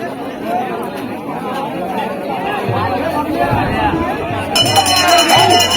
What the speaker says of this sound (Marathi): इथे रथासाठी आरतीच्या गर्दी बघूया आपण